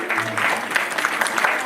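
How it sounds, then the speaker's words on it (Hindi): An audience at a Shrimad Bhagavat Katha gathering in Tagore Garden, New Delhi claps in a brief, steady patter of applause, moderately loud, with a voice briefly audible at the start. "सभी लोग तालियां बजा करके"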